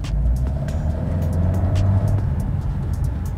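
A 2024 MG HS Exclusive SUV with a 172 hp 1.5 TGDi engine and automatic gearbox pulls away gently, its low engine hum and road rumble steady and smooth, with light ticking noises and no talk.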